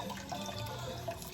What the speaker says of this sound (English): So this is a new bottle, so we're just gonna pour around a few times,